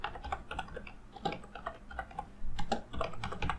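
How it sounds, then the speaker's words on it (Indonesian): Rapid clicks from a computer keyboard being typed on, quiet and close, in uneven bursts with short pauses. "dia akan mengetikkan kata-kata ini"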